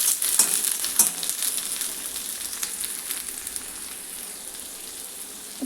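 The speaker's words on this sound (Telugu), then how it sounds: "ఇలా బీన్స్ వేసేసుకొని ఒక 2 నిమిషాలు ఫ్రై చేసుకోవాలి" Green beans fry in a pan with a loud, hissing crackle that is dense at the start and settles into a steadier, softer sizzle, with occasional light taps and no voices.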